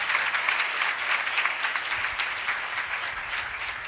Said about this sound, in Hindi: ऐसे खुदा के लिए जोरदार तालियां बजाएं।